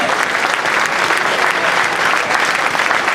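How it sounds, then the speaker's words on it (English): Dense, steady applause from an audience at a live bushfire appeal show, loud and continuous throughout with a bit of crowd noise mixed in. "I want you to all put your hands together for these wonderful people."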